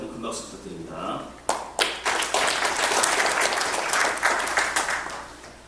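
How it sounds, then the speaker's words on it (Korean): At a Korea-US business friendship forum, a voice speaks briefly in Korean, then a crowd breaks into loud applause that continues steadily for several seconds. "여러분 다시 한번 큰 박수 부탁드립니다"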